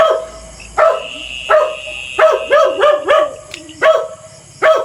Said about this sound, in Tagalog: Ang ingat talaga ng aso ito.